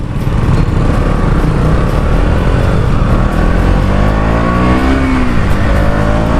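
A motorcycle engine runs close-up while warming up before a ride, a loud, steady mechanical drone with a slight rise and fall in pitch and no talking.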